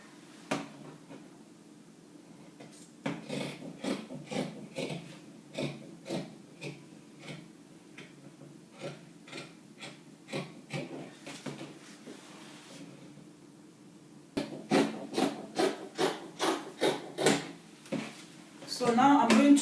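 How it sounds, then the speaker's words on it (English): Scissors snip through fabric while a kaftan is being cut out, in short crisp bursts of clicks with quiet pauses between runs and a quicker flurry of cuts near the end. "I'm going to cut the back neckline first."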